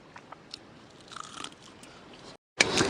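Biting into crispy homemade fried chicken, with a sequence of close, loud crunches and chewing, then a short silence and a burst of sharp crunching at the end.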